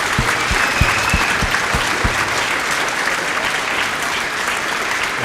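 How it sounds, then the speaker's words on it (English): Audience applause for a school choir at a Veteran's Day assembly, a steady wash of many hands clapping that fills the room, with a few louder, sharper claps standing out near the start. "One more round of applause for them."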